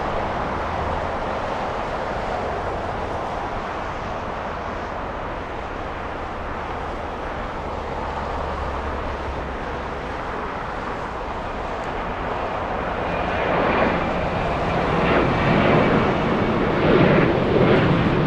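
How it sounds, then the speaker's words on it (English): A Boeing 767 jet lands at LAX, a broad distant roar that rises in loudness toward the end, heard alone without talk. "it's definitely a 767 flying in from JFK"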